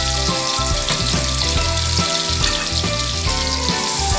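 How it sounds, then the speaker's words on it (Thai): Chili paste sizzles and crackles steadily in a hot pan, stir-fried as the base for a canned fish basil dish with crispy pork rind, with a constant close frying hiss and occasional stirring scrapes. "ต่อไปผมก็จะมาเริ่มผัดกะเพราปลากระป๋อง แ่บหมูนะครับ นี่ก็พริกผัดนะครับ"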